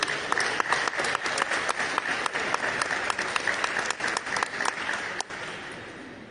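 A crowd claps loudly and steadily for a regional craft award winner from Piura at a traditional art ceremony, many hands close by, before the applause suddenly drops to a quieter tail near the end.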